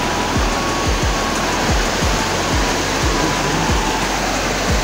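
Rushing river water at close range as someone wades to the opposite bank, a steady broadband roar with no voices, punctuated by repeated low thumps roughly every half second.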